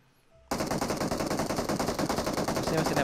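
Rapid automatic gunfire in the PUBG battle game bursts in after a short quiet start, loud and continuous, with dense repeated shots that build slightly louder toward the end.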